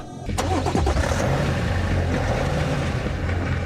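A BMW 535d diesel engine cranks and catches with a sharp burst, then settles into a loud, rough, close-up idle rumble that holds steady for several seconds.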